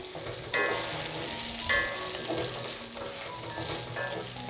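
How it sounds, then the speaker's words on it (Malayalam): Onions with jaggery and tamarind sizzle steadily in a pan while a spatula stirs and scrapes at intervals, the frying hiss continuous and fairly close, with no voices. "ഇത് ഇത്രയും ചേർത്ത് കൊടുത്തിട്ട് വീണ്ടും നമുക്ക് നന്നായിട്ടൊന്ന് വഴറ്റി കൊടുക്കാം"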